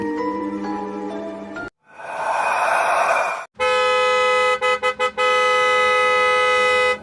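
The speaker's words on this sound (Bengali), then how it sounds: "আরে এই রাতের বেলা গাড়ির হর্ন বাজাইতেছে কে বাইরে?" A car horn blares at night in long, steady blasts, broken by a rush of noise and a quick series of short toots before sounding again.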